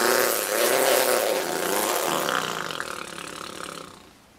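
A boy imitates a chainsaw with his voice, a harsh continuous rasping buzz that wavers in pitch and gradually fades out over about four seconds.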